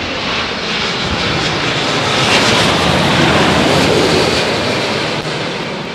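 A Boeing 787 Dreamliner landing in gusty wind at Heathrow gives a loud, close, continuous engine roar with broadband rushing noise that swells slightly in the middle and holds steady throughout.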